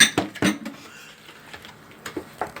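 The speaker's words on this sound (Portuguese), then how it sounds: "E agora a gente vai mexer para fazer aquela massa bem homogênea, tá? Vamos acrescentando a farinha e mexendo." A spoon stirs bread dough of flour, salt and sugar in a bowl at home, giving a few sharp scraping clinks and knocks against the bowl, spaced irregularly, with softer rubbing between them.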